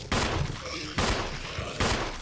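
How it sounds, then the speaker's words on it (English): Heavy bursts of gunfire from Resident Evil Remastered, three loud broadband volleys roughly a second apart, each sustained and dense, filling the whole clip with no talking. "That was a lot of bullets."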